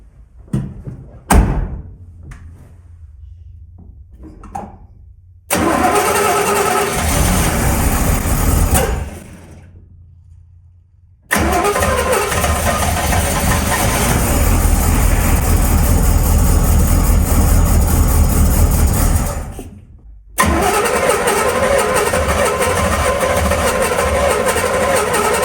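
Cammed Chevrolet squarebody truck engine firing up for its first start, a loud low rumble that runs several seconds, dies away, then catches again and holds steady, close up with no talk.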